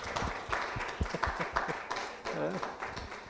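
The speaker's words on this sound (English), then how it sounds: "give a big round of applause to all of you" Audience at a Gita Jayanti gathering gives a round of applause, loose clapping mixed with chatter and a voice talking through it.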